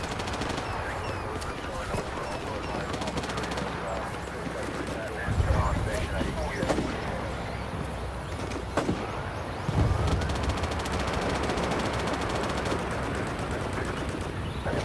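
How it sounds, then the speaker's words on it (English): Sniper fire in a Tropic Thunder roleplay session of a shooter game: scattered gunfire and two deeper heavy thuds rise over a constant bed of jungle ambience, with people talking throughout. "I think I'm being shot at by a sniper."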